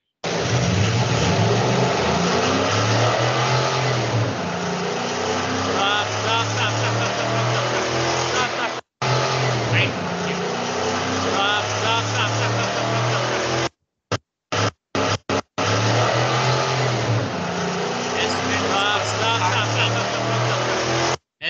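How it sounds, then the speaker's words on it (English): A car engine runs steadily and loudly up close with an abnormal extra noise mixed into its drone, broken by a few brief cutouts. "you will hear the sound of the engine is disturbed by some additional sound"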